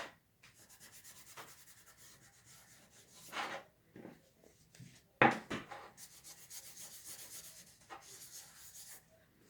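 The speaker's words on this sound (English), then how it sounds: "And then with the other side, you just kind of go ahead and buff it." An old towel buffs wax over a wooden pumpkin in short, close, soft rubbing strokes. The strokes come in irregular bursts with quiet pauses between them.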